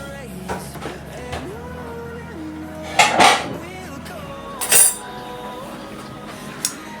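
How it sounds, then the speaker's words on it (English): Serving spoon and cutlery clinking against a plate while salmon, rice and peas, and coleslaw are dished up, a few scattered clinks with two louder scrapes, under quiet background sound. "I'm just gonna dish up a little piece of the salmon"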